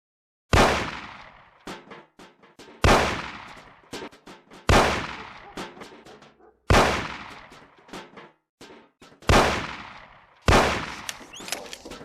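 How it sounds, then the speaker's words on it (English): Gunshots in the video game Mafia as cans are shot off a table, six loud separate shots about two seconds apart, each ringing out with a short echoing tail. "Shoot the cans off of the table."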